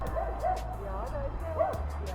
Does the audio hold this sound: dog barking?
yes